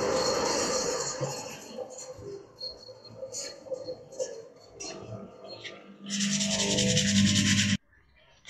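A piece of exotic wood for a mallet made from offcuts is lightly sanded by hand, with soft rubbing strokes that build to a louder, close scratching rasp before stopping abruptly.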